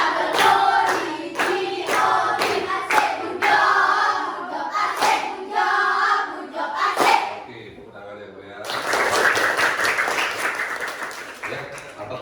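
A classroom group of students performs a patterned 'good job' clap, with sharp rhythmic hand claps mixed with chanting voices, followed after a short pause by a fuller burst of applause and crowd noise.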